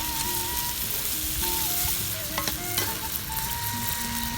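Salted fish, tempeh and eggplant stir-fry in a pan with a little water. A steady, close sizzle bubbles throughout, with faint scraping of stirring and no voices.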